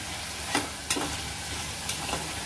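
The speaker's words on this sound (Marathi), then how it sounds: "कढीपत्ता काजू मिरची नंतर गाजर गाजर जरा मोठ्या पोळी करायच्यात छान हे सगळं परतून घ्यायचं आपल्याला" Curry leaves, cashews, chilli and carrots sautéing in a pan for millet khichdi, a steady close sizzle with a few sharp scraping stirs of a spoon against the pan.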